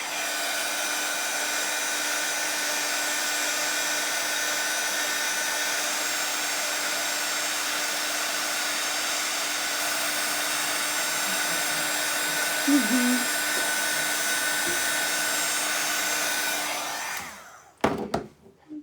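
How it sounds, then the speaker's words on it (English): A hair dryer runs steadily, drying stencil paint on an address sign, a loud continuous blowing whir for about seventeen seconds before it cuts off with a few handling knocks at the end. "I'm gonna throw the dryer on this again real quick."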